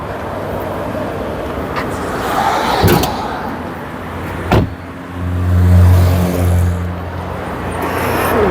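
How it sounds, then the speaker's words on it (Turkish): Hood of a manual-transmission car being opened outdoors during a driving test lesson, a couple of sharp metallic clunks and a latch click over a low steady rumble of traffic and engine noise. "Motor kaputunu açarak başlıyoruz."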